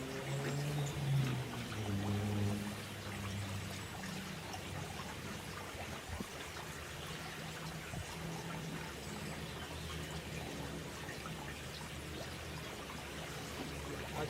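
Pond treatment mixture poured into a koi pond, a loud splashing pour at the start that settles into a steady trickle and running water throughout, with no talking.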